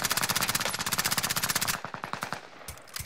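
Rapid submachine gun fire in Call of Duty Warzone on Rebirth Island, one long fast burst of close, loud shots, followed by a few slower, fainter single shots.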